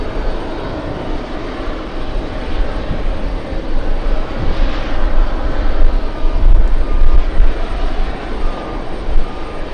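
A JetBlue aircraft at JFK Airport lines up on the runway, a loud, rumbling engine roar that swells and holds with deep low rumble, heard without speech.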